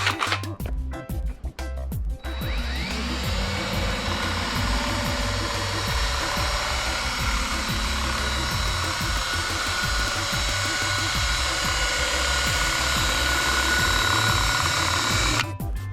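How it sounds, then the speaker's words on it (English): A rotary brass brush spins steadily along a ski base during tuning, its sustained whirring drone running loud and close for most of the stretch after a few short starts and stops at the beginning. "we want to move the brush all the way along the ski with gradual pressure"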